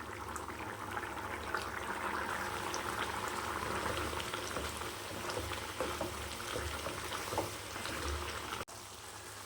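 Busy sizzling and bubbling of goat liver simmering in a pan, steady and close, continuing for several seconds before a brief quieter moment near the end.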